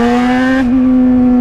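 A motorcycle engine revs loud and close at a steady high idle, its tone dipping slightly partway through, with no talk over it.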